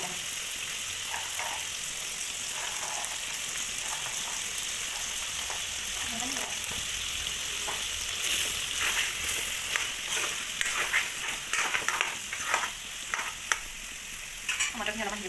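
Chopped ginger, garlic, green chili and onion frying in a pan while broiler chicken and taro are being cooked: a continuous close sizzle with irregular stirring clatter that grows busier in the second half.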